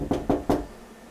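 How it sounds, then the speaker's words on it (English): A door takes three quick, evenly spaced knocks, close and clear, followed by quiet room tone. "Is the knock coming out of the door?"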